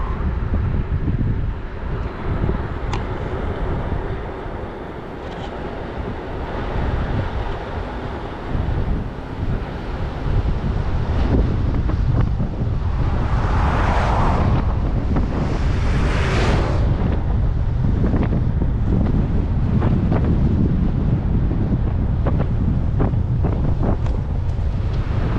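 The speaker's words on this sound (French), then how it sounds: "Il y a un vent dehors." Strong outdoor wind gusting steadily across the microphone for the whole stretch, a loud continuous rumble with brief brighter swells, heard during a bicycle trip from Seattle to Los Angeles.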